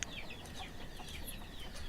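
Chickens cluck softly in the farming town of the video game Banished, scattered short calls over a quiet ambient bed.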